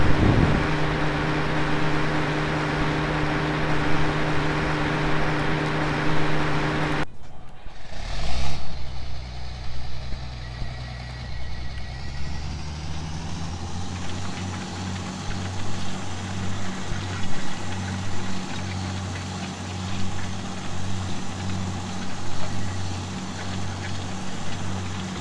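Tractor engine in Farming Simulator 2013 pulling a small cultivator, a steady low mechanical drone that cuts out briefly, then returns louder with a rising rumble and stays constant and close, with no talking.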